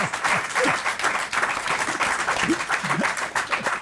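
Studio audience applause during a French radio entertainment show, a burst of dense, steady clapping with a voice speaking over it.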